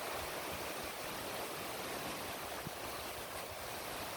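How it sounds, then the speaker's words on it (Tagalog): Sea waves at high tide along a beach, a steady wash of surf that stays fairly faint and even throughout, with no voices. "mataas ang dagat dito ngayon. Kumbaga, high tide"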